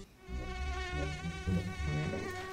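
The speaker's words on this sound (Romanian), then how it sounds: "Deși încă țânțarii ăștia." Mosquitoes whine in a thin, steady, close buzz indoors on a hot summer night, continuous throughout with no talking.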